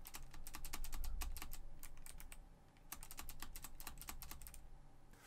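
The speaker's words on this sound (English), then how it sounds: "I'm using my physical keyboard to play a ZX Spectrum game" Rapid keypresses on a physical computer keyboard while playing a ZX Spectrum game in an emulator, a dense run of close, crisp clicks with a short pause midway.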